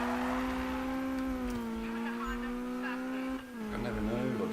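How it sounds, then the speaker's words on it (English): Engine of a car drifting with the handbrake in the Need for Speed video game, a steady droning rev that dips briefly near the end, with a person talking over it. "Am I supposed to be drifting with handbrake?"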